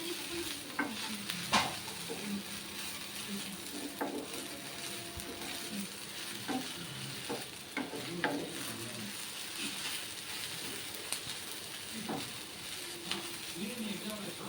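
Okra, onion and crushed curry leaves frying in oil for a dhaba-style okra fry, stirred with repeated scraping and clicking strokes over a continuous sizzle.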